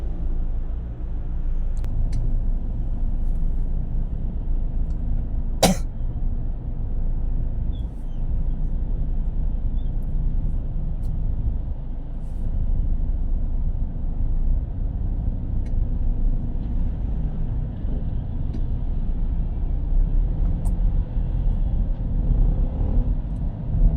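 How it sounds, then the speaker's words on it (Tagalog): Steady low rumble of road traffic around a vehicle heading down from Tagaytay toward Manila, continuous engine and tire drone with a brief sharp click midway and no talking. "Traffic dito sa Tagaytay."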